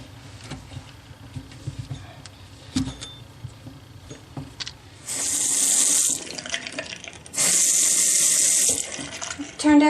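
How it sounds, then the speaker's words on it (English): A bathroom faucet turned on, water gushing into the sink in two loud bursts after quieter clicks and handling noises of the tap. "So I'm going to turn on the water."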